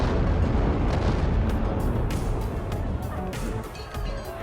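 Deep rumbling blasts from DIY grenades in the Dying Light 2 video game, loud and near, with scattered sharp pops and crackles over a sustained low roar.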